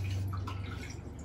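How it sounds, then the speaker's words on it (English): A cup of water poured into a bowl, a brief close splashing trickle over a low steady hum, quiet and with no voices. "So we're going to pour our cup of water."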